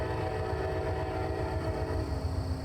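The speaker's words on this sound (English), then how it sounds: "Thank you, train." A train in American Truck Simulator rumbles steadily with a sustained horn tone held over it, loud and continuous throughout.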